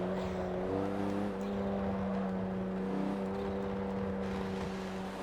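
Distant race cars in a Super Trofeo Cup race, a steady engine whine with sustained tonal notes and slight pitch shifts, faint and continuous without talk.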